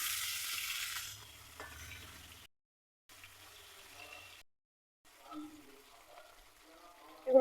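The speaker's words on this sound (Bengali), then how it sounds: "এগুলোকে উল্টে পাল্টে ভেজে নিতে হবে।" Pieces of fish and potato fry in hot oil with a soft sizzle and occasional stirring scrapes, broken by brief silent gaps, fairly faint and close.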